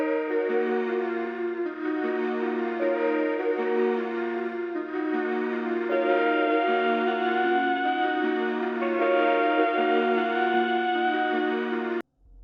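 FL Studio trap melody chords play as sustained, layered synth tones with a slow harmonic progression. They hold at a steady level throughout and cut off abruptly near the end, with no voice present.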